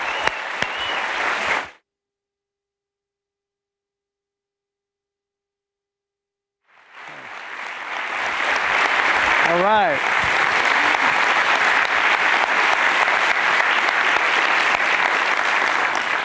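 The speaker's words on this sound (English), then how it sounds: "please give a really warm round of applause" An auditorium audience gives a warm, sustained round of applause for a speaker, a dense roar of many hands that swells after a brief cut of silence and holds steady, loud and close.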